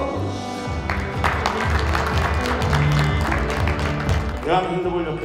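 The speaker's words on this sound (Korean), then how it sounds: "한번 뜨거운 박수" A warm, sustained round of applause from the crowd at a Korean handball association award ceremony honoring SK, many hands clapping steadily with background music and murmurs, fading as a voice begins near the end.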